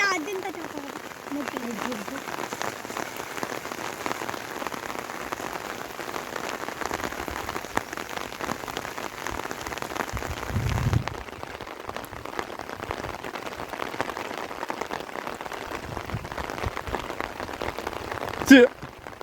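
Rain falling steadily over a Konkan village, a continuous patter of drops with a faint voice murmuring beneath and a brief sharp knock near the end.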